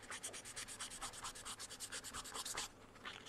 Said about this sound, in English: I will sand off a little bit with a very fine sandpaper